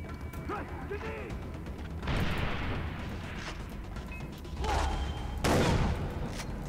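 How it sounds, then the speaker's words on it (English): Shotgun blasts and grenade explosions in the video game Far Cry 3 on master difficulty, several loud booming bursts spread across the stretch over a background of game noise, with a player talking at times. "I picked the shock, the best shotgun with the range at the moment"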